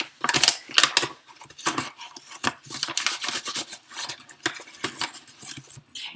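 All-purpose flour scooped with a measuring cup into a bowl, heard as close, repeated dry scraping and rustling strokes with soft taps, irregular bursts over several seconds, no talking.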